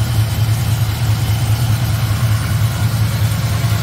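A G-Body Oldsmobile Cutlass engine idling just after start-up, a steady, loud, low rumble that holds even and close throughout, with no talking.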